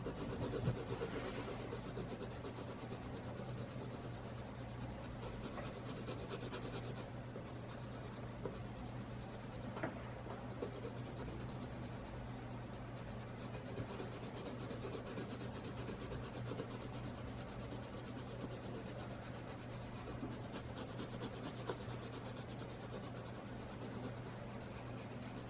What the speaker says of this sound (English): I'm just going to burnish all that down.